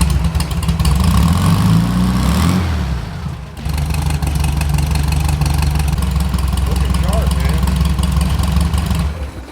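A car engine fitted with a new polished Pat Downs fan and pulley kit cranks, catches and settles into a steady loud idle close by, with a brief dip in the middle and voices talking over it.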